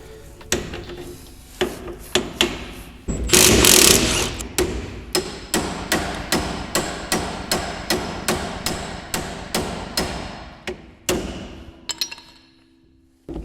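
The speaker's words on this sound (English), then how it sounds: "I guess we'll just start with taking off this suspension right here." Hand tools working on the suspension of a 1965 Mustang: a long series of sharp metallic hammer blows at a steady rhythm, close and loud, with a burst of grinding scraping early on.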